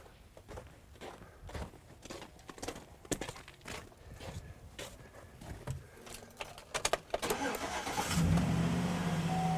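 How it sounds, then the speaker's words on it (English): Scattered clicks and knocks, then a pickup truck engine, jump-started from a portable battery booster, cranks and catches near the end, settling into a steady idle. "So the amazing, no issue starting the pickup."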